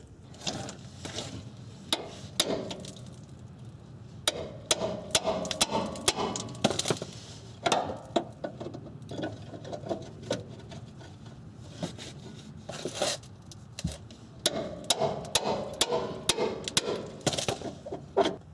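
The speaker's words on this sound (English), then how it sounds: "with this guy, I'm going to use the 3-pound hammer." Repeated sharp metallic strikes from a 3-pound hammer on a Nissan Maxima rear suspension bolt ring out in irregular bursts, some in quick runs, with clanks and shuffling between blows close by.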